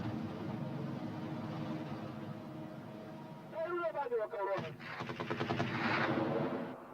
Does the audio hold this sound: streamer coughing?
no